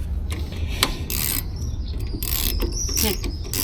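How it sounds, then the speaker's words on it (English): Ratchet wrench working on the starter of a VW trike, giving repeated close mechanical clicking bursts with metallic ratcheting, loud and steady against a garage background, with no talking. "I am really liking this ratchet"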